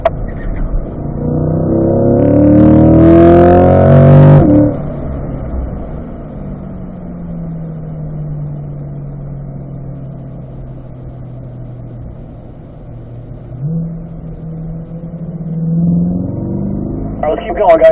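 Corvette C8 Stingray engine pulling hard during lead/follow laps at a driving school track, a loud rising roar for several seconds, then a steady droning hum with a gear change and another climb, with an instructor talking over it.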